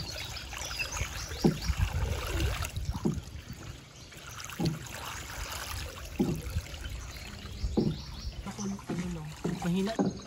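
A small boat moving along the Maasin River in Siargao, with water sloshing and dribbling around the hull in an uneven rhythm while people talk intermittently over it.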